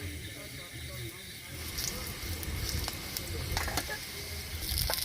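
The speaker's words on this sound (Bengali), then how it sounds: "এই যে পকোড়ার জন্য আমরা তেল গরম করে পকোড়া ছাড়তেছি গরম তেলে।" Bread pakoras dropped into hot oil while cooking at a campsite in heavy rain, a soft crackling sizzle with a few sharper pops, fairly quiet, with voices talking over it.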